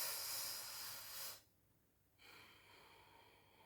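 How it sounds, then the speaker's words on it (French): Sheetkari breathing during a guided cooling breath exercise: a long hissing inhale drawn through the teeth, a short pause, then a softer steady exhale through the nose, close and quiet with no talk. "Inspirons sur 4 temps entre les dents. Expirons sur 6 temps par le nez."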